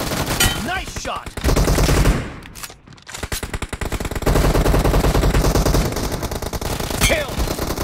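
Rapid machine-gun bursts from a BGMI battle game blast loud and close, a dense rattle that breaks off briefly mid-clip and then resumes in sustained volleys, with no voices.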